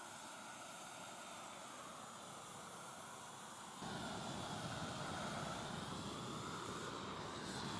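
A roofing torch heat-welding SBS modified bitumen sheet, a continuous roaring blast of flame that grows louder and fuller midway and holds steady.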